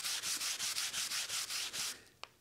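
A wooden board is burnished along the grain with steady back-and-forth strokes. About nine even, close rubbing swipes sound in a regular rhythm, followed by a single sharp click at the end.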